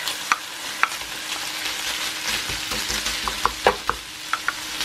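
Onions fry with bacon in a pan for potato rösti: a soft, continuous sizzle with scattered scraping stirs and small clicks spread across the stretch.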